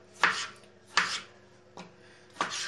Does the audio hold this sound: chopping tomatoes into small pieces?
yes